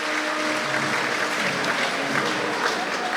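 Crowd at a horse championship show applauds as an entry leaves the arena, a loud, sustained wash of many people clapping, steady and dense, with faint voices mixed in.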